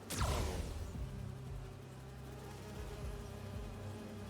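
Holographic bee wolves in the video game Marvel's Spider-Man 2 give off a faint, steady insect-like buzzing that stays fairly even throughout, with a slightly louder swell at the start.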